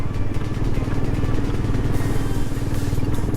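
A motorbike engine drones steadily up close on the road to Matheran, with continuous rumbling and wind rush throughout and no voices.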